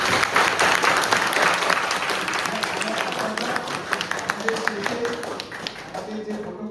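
An audience applauds at a youth leaders' bootcamp event, a sustained wash of many hands clapping that stays fairly loud and then thins slightly toward the end, with a voice speaking over it.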